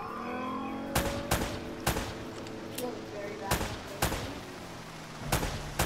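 Gunfire in the video game Uncharted: Drake's Fortune: loud, sharp shots cracking singly and in quick pairs over a steady background hum, with several more shots bunched together near the end.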